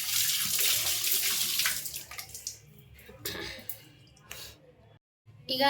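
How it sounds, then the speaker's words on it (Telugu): Water gushes loudly from a tap at first while goat intestines are cleaned, then eases into splashes and trickles with a brief gap before it runs again. "ట్యాప్ ఆన్ చేసుకొని"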